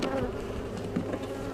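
Honeybees buzzing around an open hive during an inspection, a soft continuous drone with individual bees passing close, heard alone without talk.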